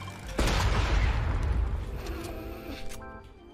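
Fortnite gunfire, with a loud booming burst of shots and explosive noise that rings out and slowly fades over a few seconds, close and dense, with faint game sounds trailing at the end.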